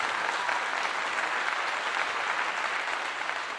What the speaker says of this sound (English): I want to give you a clap.